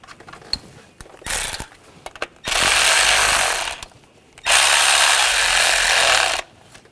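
Ratcheting wrench tightens the ignition coil bolts on a 2014-2020 Nissan Rogue 2.5L, two sustained bursts of close, busy mechanical clicking about two seconds each, with a few lighter handling clicks before them.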